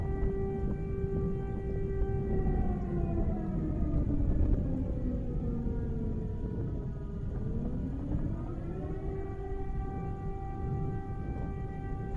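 Wailing air-raid sirens sound at night in Ukraine, a sustained rising and falling tone with harmonics that dips and climbs again, distant yet steady over a low rumbling background.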